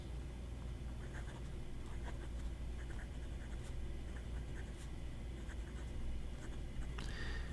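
A Lemon M2S fountain pen with a fine Bock nib scratches steadily across agenda paper, a continuous close, soft scribbling texture with small strokes and pauses over a low background hum.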